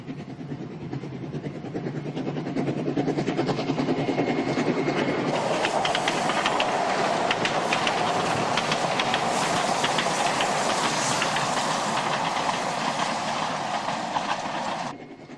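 A Salzkammergut local railway train rolls along its tracks past fields near Zinkenbach toward St. Wolfgang, a loud, steady rumble with rhythmic clickety-clack and hiss that swells after a few seconds and then holds close and constant.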